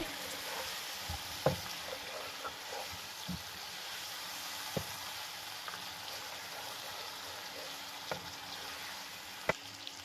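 A spoon stirs yogurt into chicken pulao in a cooking pot over a steady low sizzle, with occasional soft clinks and taps against the pot.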